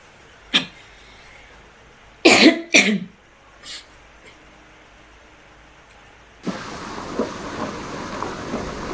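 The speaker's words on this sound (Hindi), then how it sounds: "ओके, बारिश हो रही है।" Steady rain starts falling outside a house at night and continues as an even hiss. Before it begins, a few sharp coughs or throat-clearing sounds and a faint thud come through in near silence.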